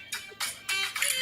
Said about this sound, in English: I didn't turn my phone down.